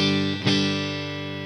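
A budget electric guitar played on its neck pickup rings out with a sustained chord, a single picked attack that then decays smoothly, close and clear with no talk.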